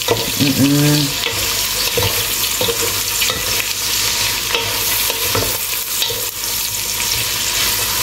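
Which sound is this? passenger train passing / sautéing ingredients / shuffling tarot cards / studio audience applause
sautéing ingredients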